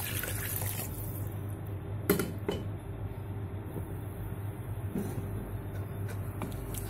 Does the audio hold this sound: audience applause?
no